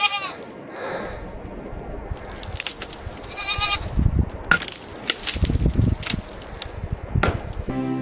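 Goats bleat near cattle on a hillside, several calls rising above a busy, rustling outdoor background with clattering, wood-like knocks, no talk heard.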